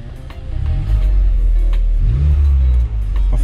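A Honda Type R engine revving after a misfire was fixed, heard up close and loud with a smooth rising and falling engine note and no stumbling, with two pushes of the throttle.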